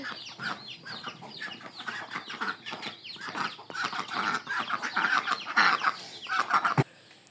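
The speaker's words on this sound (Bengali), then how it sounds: "যে হাঁস মুরগি ছাড়া হয়েছে" Chickens clucking and ducks quacking in a loose, overlapping chatter nearby, a busy flock foraging and moving about with no one speaking.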